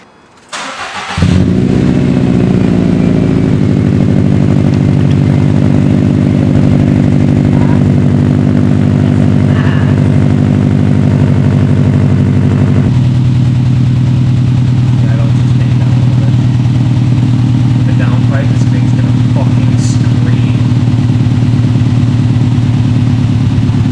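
A 2012 Subaru STI with an Invidia N1 race catback exhaust fires up on its first start, then settles into a loud, steady, rumbling idle close by that runs throughout, with faint voices now and then.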